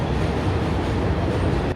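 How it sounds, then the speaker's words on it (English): Subway train rumbling past close by at night beside a Brooklyn or Queens apartment building, a loud, continuous roar of wheels and cars with no voices. "The only downside is that it is right next to a subway station."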